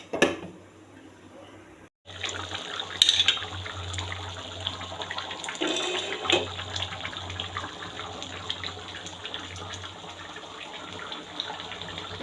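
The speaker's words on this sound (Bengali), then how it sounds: "তাই আরেকটু পানি দিয়ে দিব" Water pours from a tap or jug into a pot of goat meat and elephant foot yam curry, a steady close splashing gush starting abruptly after a short quiet moment.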